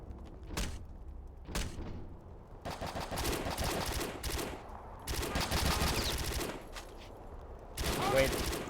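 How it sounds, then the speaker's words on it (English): MG42 machine gun in Return to Castle Wolfenstein, a couple of single shots followed by several loud rapid bursts with short pauses between, close to the listener. "Why does the MG42 over here sounds like a Nerf gun"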